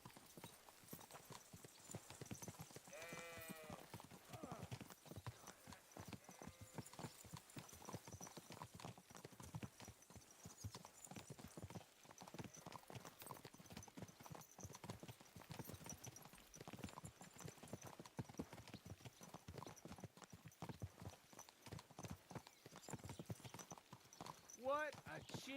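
Horse hooves clip-clopping steadily in Kingdom Come Deliverance 2, a continuous rhythmic trot with an occasional whinny, heard under ongoing speech.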